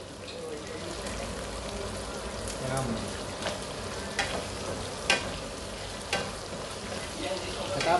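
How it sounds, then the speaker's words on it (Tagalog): Garlic frying in a pan for a supper of sponge gourd with misua noodles, a steady broadband sizzle with a few sharp pops and crackles spread through, fairly close, with faint talk in the background. "Lagay mo na ang"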